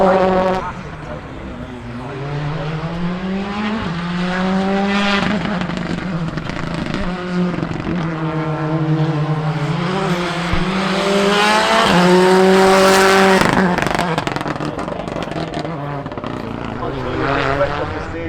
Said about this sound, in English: As we see the first car on stage do just that, Gary Pearson's Rally 2